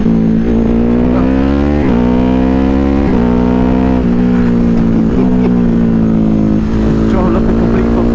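A 2022 Ducati HyperMotard 950 SP twin-cylinder motorcycle revs hard after dropping gears, its loud close engine note climbing repeatedly in pitch with brief dips at each shift, a rider's voice intermittently audible over it.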